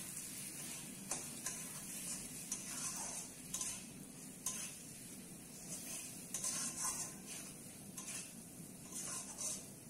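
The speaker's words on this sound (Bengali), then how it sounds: "এবার মশলাটা আরো ভালো করে ভেজে নেব যতক্ষণ তেলটা ছেড়ে না আসবে।" Spice paste with chopped tomato frying in oil, a soft continuous sizzle with irregular faint ticks and scrapes of stirring throughout.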